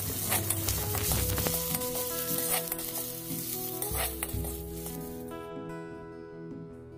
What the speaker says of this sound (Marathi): तेल तापल्यावर त्यात कांदो लसूण टाका